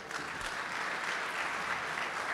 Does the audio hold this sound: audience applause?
yes